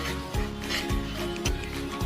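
About two-thirds of a cup of semolina being stirred and roasted in a pan for carrot halwa and barfi: close, steady scraping and rubbing strokes repeating roughly every half second, with no talking.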